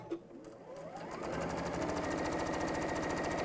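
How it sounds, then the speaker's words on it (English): Domestic sewing machine running steadily at close range, a brief start-up ramping into a fast, even stitching rhythm that stays loud and continuous with no talking. "Are you feeling well, sewing machine?"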